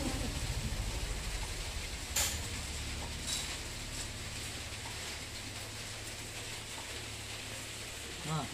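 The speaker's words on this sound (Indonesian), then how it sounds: "Hujan." Steady rain falls outdoors as a soft, constant hiss of drops on surfaces, with a few brief knocks and ticks mixed in.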